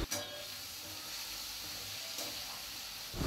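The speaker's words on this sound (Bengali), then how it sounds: "দিয়ে একটু ভাজা ভাজা করতে লাগলাম" Two medium onions, finely sliced, frying in oil for a prawn and Malabar spinach dish, giving a steady faint sizzle with a couple of brief stirring scrapes.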